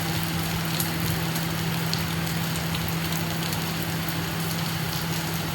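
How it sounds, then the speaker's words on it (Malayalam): Steady, dense heavy rain hisses without letup in the early morning, with a constant low hum underneath and a few sharper drop hits scattered through. "ഭയങ്കര മഴയാണ്. ഇടിവെട്ടലും മിന്നലൊക്കെ ഉണ്ട് കേട്ടോ."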